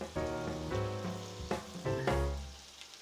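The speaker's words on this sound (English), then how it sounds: "Now I'm going to put these in. Pan's nice and hot. Just going to saute these up." Pork tenderloin pieces sautéing in a hot pan give a loud, steady sizzle close up, with brief clattering bursts as the meat lands and shifts, fading slightly toward the end.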